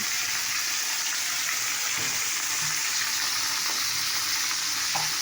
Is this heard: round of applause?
no